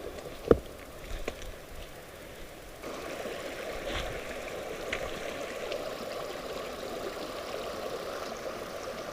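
Creek flowing at Yeagerville Falls in Yeagerville, New York: a steady, fairly faint broadband rush of running water, with a few sharp knocks near the start and no talking.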